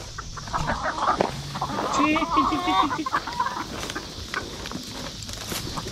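Farm chickens cluck and chatter at close range in a cluster of short repeated calls, with rustling and low background noise around them.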